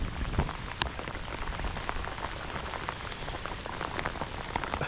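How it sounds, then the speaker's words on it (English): Heavy rain pelting the water of Big Creek Reservoir near Newport, Oregon, a dense, constant hiss of drops with scattered nearby patters, no voices. "Unfortunately, on this trip, you'll see that it rained a lot."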